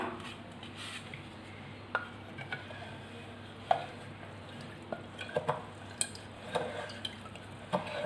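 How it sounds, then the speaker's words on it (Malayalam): Banana wine mixture stirred in a vessel after water is added, heard as a faint, steady swishing with scattered light clinks and knocks of the spoon against the container. "നമുക്കിതൊന്ന് ഇളക്കി കൊടുക്കാം"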